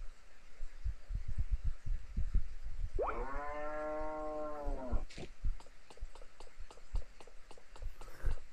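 A cow in Harvest Moon: A New Beginning gives a single clear game-sound moo lasting about two seconds, set against steady background game music with soft rhythmic thumps.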